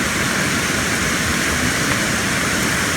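A steady, loud, broadband rush of falling water near a set of outdoor steps, continuous and unbroken for the whole stretch with no voices over it.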